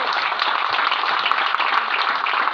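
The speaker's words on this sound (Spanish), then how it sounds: "aplaudan al Señor" Congregation applauding during a Spanish-language church service, a steady, dense wash of many hands clapping at an even level with no break.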